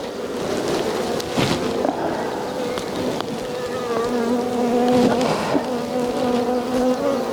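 Dense honeybee buzzing swarms close by at an open hive during inspection, a steady droning hum with shifting pitch and occasional louder passes near the listener.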